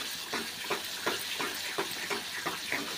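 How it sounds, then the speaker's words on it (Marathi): Chole masala sautés in oil in a pan as dried fenugreek leaves are added and stirred, giving a soft, steady sizzle with a regular rhythm of quiet stirring strokes about every third of a second. "आता यामध्ये आपण थोडीशी कस्तुरी मेथी टाकूया आणि पुन्हा एकदा परतून घेऊया।"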